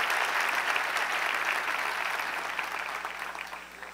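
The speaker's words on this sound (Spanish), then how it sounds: "Démosle un fuerte aplauso, Señor." A congregation at a Spanish-language evangelical church service breaks into loud, sustained applause that gradually fades toward the end.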